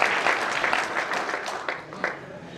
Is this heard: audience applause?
yes